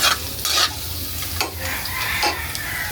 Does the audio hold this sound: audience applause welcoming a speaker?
no